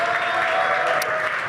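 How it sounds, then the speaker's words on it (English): An audience at an esports LAN event applauds, a brief burst of loud continuous clapping with crowd noise and a steady tone underneath. "Round of applause for MNRS."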